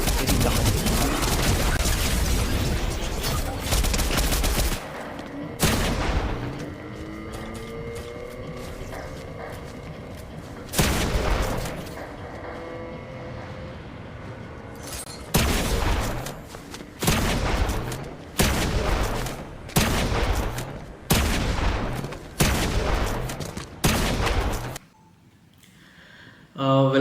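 Fortnite gameplay gunfire runs on a phone as a long stretch of dense, continuous shooting and game sounds, followed by a rhythmic series of sharp, evenly spaced shots, loud and close.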